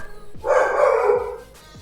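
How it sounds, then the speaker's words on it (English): A dog barks in the room during a WoT Blitz livestream, a single loud, sustained bark-howl close by lasting most of a second, with quiet background around it. "That's the dog."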